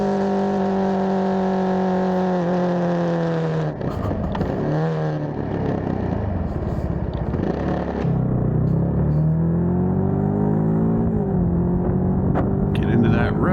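A Cfmoto 300nk motorcycle engine rising in pitch through the gears as it gets up to road speed, steady and close with wind noise, and a rider talks over it.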